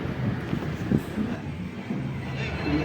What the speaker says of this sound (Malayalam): ഇവനാണ് നമുക്ക് ഇന്ത്യൻ റെയിൽവേ തന്ന സ്പെഷ്യൽ ട്രെയിൻ